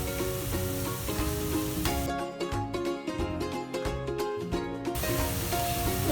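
Chopped ingredients with chilies and salt sizzle steadily in a hot pan while being sautéed for chicken cutlets. The frying hiss is continuous and fairly loud, with a brief stirring break in the middle.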